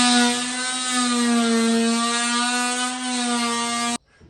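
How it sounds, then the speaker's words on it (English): An oscillating multi-tool cuts out a section of gyprock wall during a kitchen demolition, giving a steady, loud, high-pitched buzzing whine that runs continuously for about four seconds and then stops abruptly, with no talking. "I'll just chop out the gyprock"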